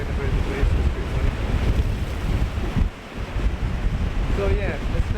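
Strong wind buffets the microphone on the shore at Kildonan on the Isle of Arran at high tide, and breaking surf roars steadily underneath with a brief lull partway through.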